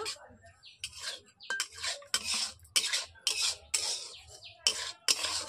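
Semolina dry-roasting in a pan over low heat to a reddish colour, with steady rhythmic scraping and rasping strokes as it is stirred, close and fairly loud, no voices.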